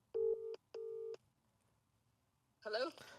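A phone gives two long steady tones separated by a short gap, followed by a person starting to speak on the call.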